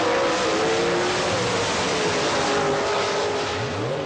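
A pro stock drag racing car at the 1984 IHRA Springnationals in Bristol, Tennessee roars hard down the strip, a loud, sustained engine blast that thins slightly as it pulls away.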